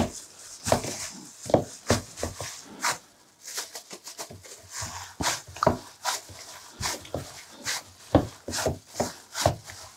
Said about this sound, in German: Also kneten wir das jetzt auch noch mal ein.